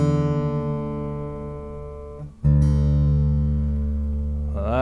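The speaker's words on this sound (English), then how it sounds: "so tune that bad boy down" A guitar string is plucked and tuned down toward open G, ringing steadily as its pitch shifts, then struck again after a brief break and left to sustain, with a final slide in pitch at the end.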